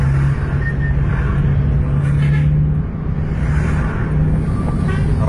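Bus driving on a road close behind three trucks, with no room to overtake: a continuous low engine and road rumble with a steady hum, heard from inside the bus, with a brief dip in the middle.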